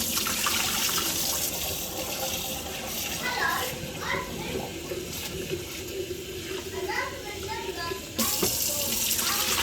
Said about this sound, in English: I'll give this a rinse, let it air dry, job done.